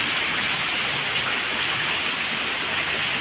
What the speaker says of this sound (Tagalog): 30 minutes rain.